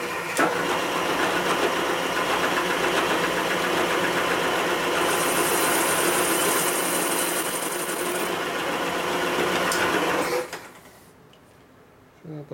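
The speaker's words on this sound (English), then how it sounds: "So I'm using a fly cutter here with a 45 bit in there" A milling machine fly cutter with a 45-degree bit chamfers the edge of a Harley panhead cylinder head, giving a loud, steady whirring cut with rapid rhythmic ticking that stops abruptly near the end, leaving faint quiet.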